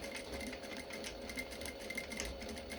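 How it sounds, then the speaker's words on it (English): A sewing machine stitching a fabric dart, running back and forth to secure the seam, a faint, continuous whirring hum throughout with no talk. "You might want to hand wind the machine at this point so you don't sew too quickly"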